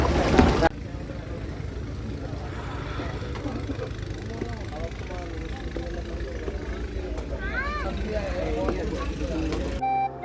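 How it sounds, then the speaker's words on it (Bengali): A trawler boat engine drones steadily on Kaptai Lake, a continuous low rumble running under the whole stretch while someone talks over it. "ট্রলার করে আসছি"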